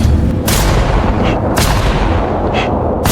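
Rifle gunshots, three loud sharp cracks spaced about a second apart over a dense, rumbling background.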